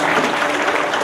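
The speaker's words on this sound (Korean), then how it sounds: "그거 박수로 환영할까요?" A church congregation applauds to welcome visitors at a Sunday worship service, a steady wash of many hands clapping together without a break.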